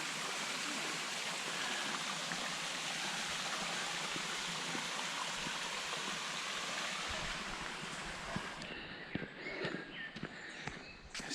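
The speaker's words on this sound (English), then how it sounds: "is the secret waterfall." Small woodland waterfall on a hill walk, steady broadband rushing of falling water close by for most of the stretch, then quieter with footsteps crunching near the end.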